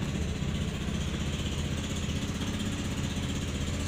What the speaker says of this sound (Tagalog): testing natin para umikot na yung langis niya sa buong makina